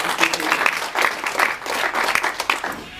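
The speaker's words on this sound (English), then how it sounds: "I think we should give them a round of applause for taking their time to come and speak to us" Audience at a discussion session clapping for invited speakers, a short, uneven round of applause with individual claps audible and some voices mixed in.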